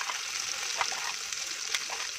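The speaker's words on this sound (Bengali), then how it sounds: "ঘিয়ের সঙ্গে মিশিয়ে নাড়িয়ে কষে নিতে হবে।" Green pea paste frying in ghee in a karahi over a low gas flame, a steady close hiss of sizzling with a few faint stirring scrapes and no talking.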